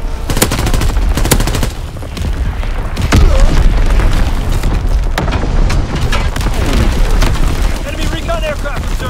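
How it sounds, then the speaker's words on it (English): Enemy artillery bombardment in the World War II shooter game Call of Duty: WWII, with heavy booming explosions and dense rattling gunfire crashing continuously, loud and close, while voices shout over the barrage. "Incoming enemy artillery! Get to cover! Enemy bomb incoming!"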